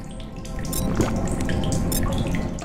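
Water drips and trickles in a dark cave area of the video game The Solus Project, a steady wet patter with a soft running-water wash, fairly close and alone.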